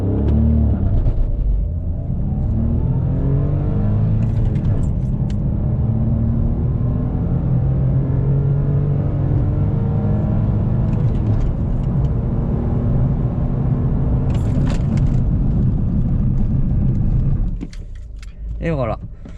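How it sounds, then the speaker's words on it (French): A 2021 Toyota Yaris 1.0 VVT-i with manual gearbox launches hard with traction control off, its engine droning and rising through the revs at close range, steady and loud, with faint rattles and a brief lull near the end. "je désactive le traction control, je repars sur une procédure launch control manuelle, hein, puisque là il n'y en a pas, voilà, c'est une boîte méca et c'est parti"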